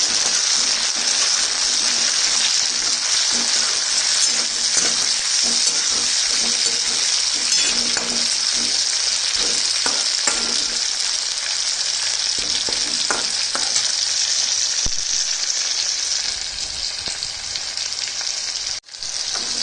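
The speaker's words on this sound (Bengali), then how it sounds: "এই পর্যায়ে আমি দিয়ে দিলাম কেটে রাখা টমেটোর টুকরোটা" Chopped tomato pieces frying with onions in a pan, giving a steady, loud sizzle with faint stirring scrapes throughout, no voices.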